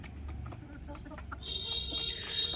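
Desi hens cluck in short, scattered bursts over a low rumble, with a thin, steady high-pitched whine joining partway through.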